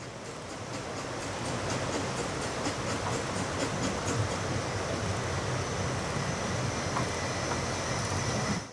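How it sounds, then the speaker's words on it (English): Talyllyn Railway narrow gauge steam locomotive No. 3 draws into the remote Welsh terminus at Nant Gwernol with the first train of the day, a steady rolling rumble with faint rhythmic beats, growing slightly louder before cutting off. "the silence is broken by No. 3 arriving with the first train of the day"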